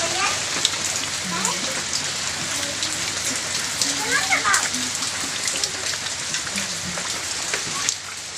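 Steady rain pours outside a home on a school holiday, a dense continuous hiss of drops spattering on surfaces, close and fairly loud, while voices talk quietly underneath at times.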